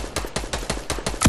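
Rapid video game gunfire, a run of about eight sharp, evenly spaced shots ringing out loud and close, ending in a heavier burst, with no talk over it.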